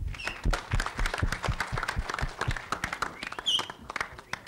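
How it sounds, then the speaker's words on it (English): An audience at a film promotion event for Action Jackson claps for Ajay Devgan, a loose, uneven patter of individual claps with a couple of sharp whistles cutting through, moderately distant. "A big round of applause for a gentleman that we all know in this film now as AJ, Mr. Ajay Devgan."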